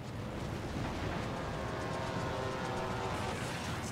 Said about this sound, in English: Armor-piercing rockets.